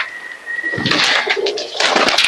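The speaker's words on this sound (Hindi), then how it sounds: "ये भी भैया सियालकोटी कबूतर है।" A Sialkoti pigeon coos close by, a steady high tone giving way to busier cooing and rustling.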